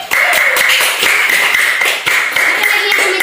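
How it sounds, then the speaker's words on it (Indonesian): Classroom applause during a micro-teaching lesson, a steady patter of many hands clapping close by for about three seconds with brief dips, no talking over it. "tepuk tangan untuk Ilham"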